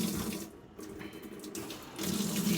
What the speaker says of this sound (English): Tap cold water.